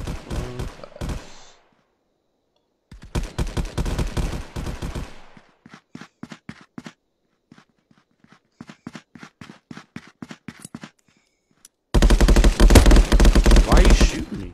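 Gunfire in the VR shooter game Contractors: rapid automatic bursts and scattered single shots, loud and close, separated by short silences, ending in a dense sustained volley.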